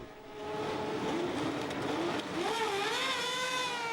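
Formula One cars from the 1970 season pull away from the grid at a race start, led by Jackie Stewart in the new Tyrrell Ford, with several rising engine whines overlapping and climbing in pitch, loud and continuous.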